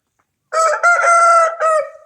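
A 4.5-kilogram rooster crows loud and close: one long, strained cock-a-doodle-doo with a brief break, then a short final note, and silence before it.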